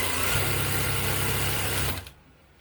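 Jack Zig-Zag 20U semi-industrial sewing machine stitching at speed: a fast, steady mechanical whir and rapid needle chatter, close and fairly loud, stopping abruptly near the end.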